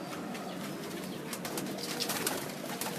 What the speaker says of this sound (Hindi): ये गोल्डन कबूतर है जी